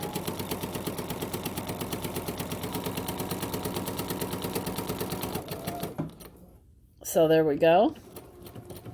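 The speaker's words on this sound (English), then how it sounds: "And so then I can stitch exactly 1/2 inch." Bernina sewing machine stitching a fast, steady run of needle strokes for about six seconds, then stopping, followed by a brief spoken remark.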